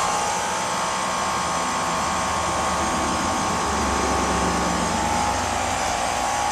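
HVAC air conditioning unit running with its compressor on, a loud, steady broadband whoosh and hum with a faint tonal whine that holds unchanged from start to finish.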